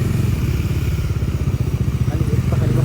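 A motorcycle engine labours and strains while carrying riders, a steady low rumbling throb with uneven thumps and clatter running throughout, close and loud.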